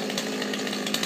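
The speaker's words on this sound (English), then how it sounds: "guys use the smaller chainsaw" A Stihl chainsaw cuts into a pine tree during a tree removal, a steady buzzing whine held for about a second at moderate distance.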